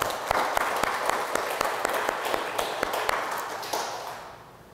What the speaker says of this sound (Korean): 하나님 앞에 먼저 영광의 박수를 한번 올려드리겠습니다.